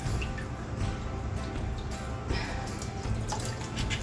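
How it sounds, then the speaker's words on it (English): Water drips and trickles after potted flowers are watered indoors, a steady close splashing wash with scattered small drips, no talking. "Yeah, that's just so much water. It's like dripping."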